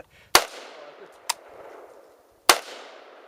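Three separate gunshots crack at an outdoor range where shooters fire at cans and a cardboard box roughly 17 yards away; the first and last are loud and sharp with short decaying tails, the middle one slightly weaker, spaced unevenly.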